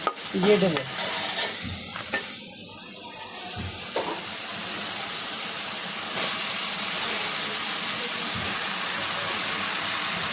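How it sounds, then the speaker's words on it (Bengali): Mixed vegetables and dried fish in a spiced masala sizzle loudly in a pan while being stirred, with scraping and clattering early on before a continuous close frying hiss settles in. "এবার সবজিগুলো নেড়ে চেড়ে ভালোভাবে মিশিয়ে নিই"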